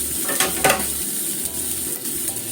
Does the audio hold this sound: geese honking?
no